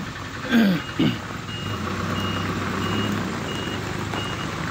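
A dump truck backs up at a soil dumping site on farmland, its reversing beeper sounding in steady repeated pulses over a low idling engine, with a couple of short louder knocks early on.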